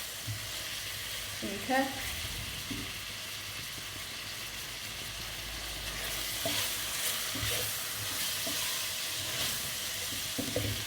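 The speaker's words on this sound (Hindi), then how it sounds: "लहसुन और अदरक को भी 2 मिनट के लिए भून लेते हैं" Garlic and ginger fry in a pan with a steady close sizzle, broken by a few clinks of stirring and a brief spoken word near the start.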